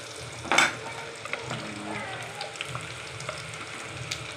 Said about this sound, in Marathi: मग यामध्ये आपण टाकू आले लसूणचं पेस्ट.